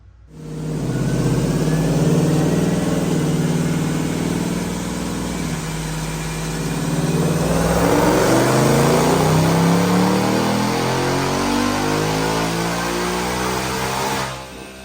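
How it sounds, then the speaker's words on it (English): A Whipple Stage 2 supercharged V8 in a 2018 Mustang GT revs hard on a dyno, climbing steadily in pitch for several seconds, loud and close, then cuts off abruptly. "Check out this dyno pull."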